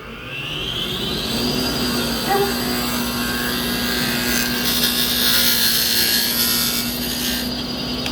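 A repurposed half-inch bowl scraper, ground as a negative-rake rounded inside scraper, cuts wood on a lathe with a continuous close rasping scrape over the steady drone of the machine, with no pauses.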